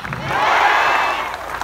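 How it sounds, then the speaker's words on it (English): A crowd at a Jantar Mantar rally applauds army and paramilitary personnel, a swelling wash of clapping and cheering that peaks midway and then tapers off. "Let us clap for the army personnel, our paramilitary forces."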